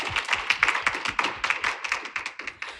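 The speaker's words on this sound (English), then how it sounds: "So let's give everyone a round of applause" Applause at a lecture comes from a small group, sparse separate hand claps in a quick uneven patter, close and moderately quiet.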